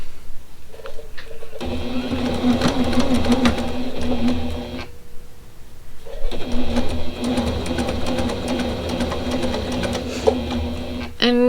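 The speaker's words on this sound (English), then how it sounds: "And I'm going to start sewing this." A sewing machine stitches a pickle dish quilt block in two long, steady runs of humming, rapid needle beats, split by a short pause. The sound is close and loud, and no voices are heard.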